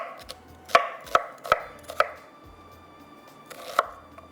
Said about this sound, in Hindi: सारी चीज़ें डालकर बस चॉपर को चलाएंगे, अच्छी तरह से इसको बारीक पीस लेंगे।